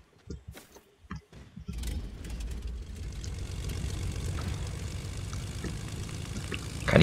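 Vehicle engine in Fortnite running steadily, a loud continuous drone that starts after a few seconds of scattered game sounds and holds to the end.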